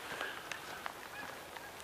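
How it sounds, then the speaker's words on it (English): Distant migrating geese honk several times in a loose, irregular series, faint against a quiet outdoor background. "I can hear those big birds who are going down south."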